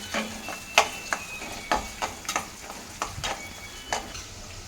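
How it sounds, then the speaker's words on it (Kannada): Onions fry in a pan for a vegetable fried rice, with a soft sizzle under a series of sharp spoon scrapes and taps against the pan, close and fairly quiet, with no talking. "ಸ್ವಲ್ಪ ಈರುಳ್ಳಿ ಹಾಕೊಳ್ಳೋಣ. ಅದೊಂದು ಸ್ವಲ್ಪ ಫ್ರೈ ಆಗಲಿ."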